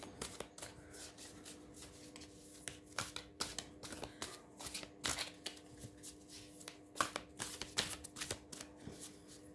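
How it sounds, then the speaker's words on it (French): A thick deck of 111 oracle cards is shuffled by hand close up, giving repeated soft riffling and flicking bursts in an uneven rhythm, quiet and without talk. "Donc 111 cartes, c'est quand même pas facile à brasser."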